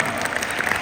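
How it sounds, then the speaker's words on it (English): Audience applause, a brief burst of dense, steady clapping from a crowd that fills the whole moment at close range. "Can you give Dr. a big round of applause?"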